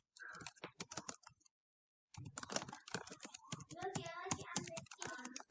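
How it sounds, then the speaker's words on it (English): Rapid, irregular keystrokes clatter on a computer keyboard in bursts, broken by a brief pause before the quick typing resumes, faint and close. "maybe typing isn't better"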